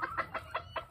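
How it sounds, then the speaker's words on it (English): Mille de Fleur and Barbu de Watermael bantam chickens cluck close by in a home yard, five evenly spaced soft clucks in steady rhythm with no talk over them. "these guys are super cute chickens"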